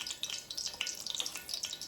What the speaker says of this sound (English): So you just drop a garlic clove in there, and if it bubbles up